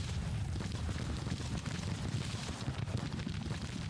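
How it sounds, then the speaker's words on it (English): Artillery booming in the Civil War strategy game Grand Tactician: The Civil War, a continuous rumble of distant cannon fire and overlapping explosions forming a heavy, low roar throughout. "Artillery's firing there now"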